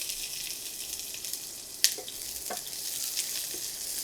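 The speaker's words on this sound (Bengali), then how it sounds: "পেঁয়াজটাকে একটু ভেজে নিতে হবে লাল লাল করে।" Half a cup of chopped onion fries in hot oil in a pan, giving a steady close hiss with a couple of sharp pops and stirring scrapes, no voices.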